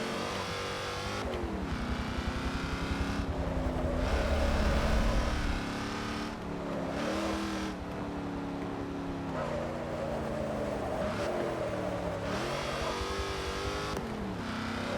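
Wide off-road trucks race in Forza Motorsport 7, their engines droning loudly with rising and falling revs as they shift through the gears, and several cars mixed together up close.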